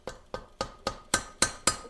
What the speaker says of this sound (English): get you a hammer and just give it a few taps.